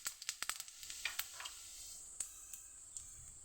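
Whole cumin seeds hit hot oil in a home kitchen pan, giving a burst of sharp crackling pops that settle into a steady, close hiss with occasional spits.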